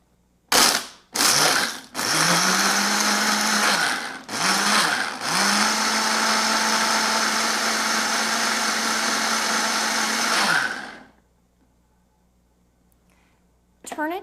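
Ninja Pulse blender working in its single serve cup: a few quick whirring pulses, then two longer sustained runs of the motor that stop abruptly into quiet.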